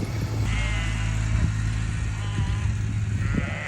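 Sheep on a farm being moved between fields, bleating repeatedly at close range over a steady low engine hum, several wavering calls overlapping.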